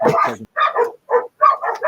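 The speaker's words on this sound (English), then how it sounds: "It's the dogs." Dogs barking loudly and close by, several rough barks in quick bursts with brief gaps between them, heard alone without talk.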